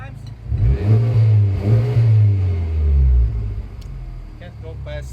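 Honda Civic Type R FK8 fitted with an HKS Legamax exhaust revving in short rising bursts, a throaty mid-pitched engine note swelling and falling several times, with voices talking over it.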